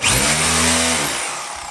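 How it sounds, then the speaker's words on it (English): Hammer drill biting into a brick wall during demolition, one loud steady burst of harsh grinding hammering that fades slightly at the end. "Hammer drill, hammer."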